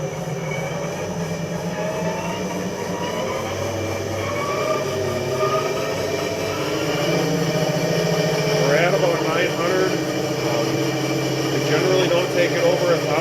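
A 1996 Nardini lathe spins up in gear from about 270 RPM, a steady loud mechanical whine and drone that gradually swells in pitch and volume, with a continuous machine hum throughout.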